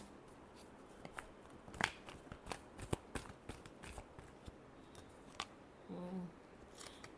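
Tarot cards get a final shuffle at close range as a series of crisp, irregular riffling snaps and flicks, with a brief softer rustle near the end, all fairly quiet.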